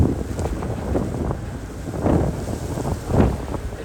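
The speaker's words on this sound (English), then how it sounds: "That is the engine saltwater coolant" On a car and bus ferry sailing through rough seas at the edge of a typhoon, engine saltwater coolant discharge rushes and splashes steadily into churning white water, with rhythmic surges and wind buffeting the microphone.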